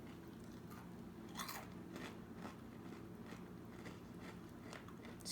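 Someone chews freshly baked, still-warm homemade Chex Mix in repeated crisp crunches close to the mic, in an irregular rhythm over a steady faint background hum.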